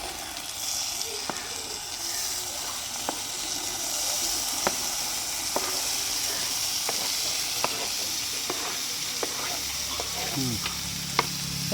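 Onions and tomatoes cook down in a pan for thokku with a continuous moderate sizzle. Scattered sharp clicks and taps of stirring come through, and a splash of liquid is heard near the end.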